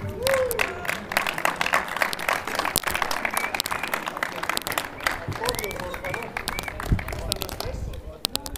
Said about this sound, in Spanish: Un aplauso por favor para el equipo MJ.